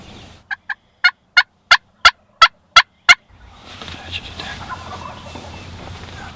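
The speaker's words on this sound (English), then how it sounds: "Early that morning, you could hear them gobbling on the roost." Wild turkeys gobbling from the roost in early-morning woods: a quick run of about nine sharp, loud gobble bursts, then steady background ambience.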